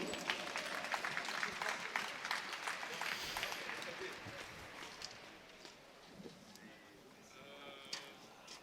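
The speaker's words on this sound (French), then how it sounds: "Et on applaudit également son valeureux adversaire" Boxing-match crowd applauding ringside for a fighter, a dense wash of clapping for about five seconds that thins out afterward, with faint voices mixed in.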